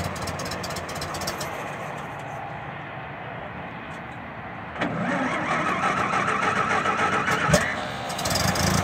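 A vintage Templar Roadster at an AACA Special Fall Nationals car show turns over and catches about halfway through, then settles into a louder, steady running idle, close by.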